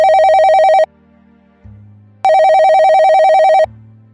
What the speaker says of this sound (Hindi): तभी तोता व्यापारी का फोन आ जाता है।